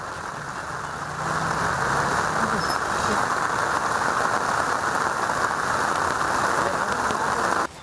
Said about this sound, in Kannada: ದಕ್ಷಿಣ ಕನ್ನಡ ಜಿಲ್ಲೆಯಾದ್ಯಂತ ಭಾರೀ ಮಳೆಯಾಗ್ತಾ ಇದೆ